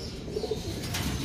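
Racing pigeons coo steadily at close range before being loaded for a race release, a low continuous murmuring with soft chirps from several birds.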